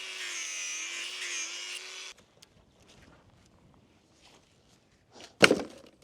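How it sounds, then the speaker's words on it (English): Angle grinder cutting at screws in wood: a loud, high motor whine for about two seconds that cuts off abruptly, then near silence and a sharp knock. "Now I try to unsuccessfully angle grind some screws in the way."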